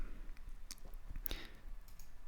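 A couple of faint, sharp mouse clicks on a computer, isolated against quiet background hiss.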